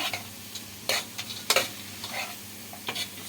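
Peas, onion and carrot fry in a pan while a spoon stirs them, giving sharp scraping strokes and clatters over a steady, close sizzle.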